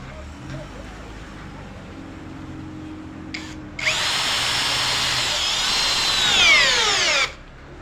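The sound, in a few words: power drill driving a large 5-inch screw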